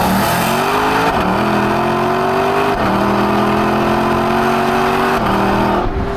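Lexus LC convertible engine accelerating hard through the gears, a loud, close mechanical roar that climbs steadily in pitch, dips briefly at each of several gear changes, then climbs again.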